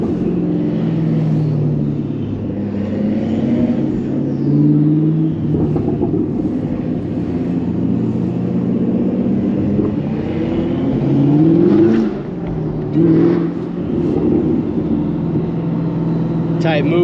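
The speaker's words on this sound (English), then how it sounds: "Damn, turbo sound crazy though." A Nissan GT-R's turbocharged engine rumbles and whooshes with rising and falling revs on city streets, loud and close, while voices talk over it.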